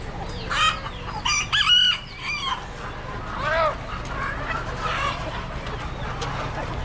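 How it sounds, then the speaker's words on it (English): Hens and fowl clucking and cackling in pens at an Amish animal auction, several loud close calls in the first seconds, then softer intermittent clucks over a steady crowd murmur. "Some good looking hens."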